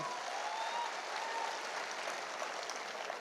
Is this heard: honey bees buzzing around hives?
no